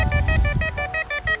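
Metal detector beeping tone pulsing in a steady rhythm, about eight short bursts, fairly loud and close, over low rumbling handling noise.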